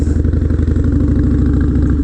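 A Harley-Davidson Dyna motorcycle engine running loud and close, a throbbing, rumbling beat held at high revs without a break.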